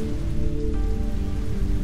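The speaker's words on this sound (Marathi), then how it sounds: "पाऊस खूपच पडतोय." Heavy rain pours steadily and loudly on a surface in a Marathi short film scene, a dense continuous hiss with drops spattering throughout, close by and with no voices.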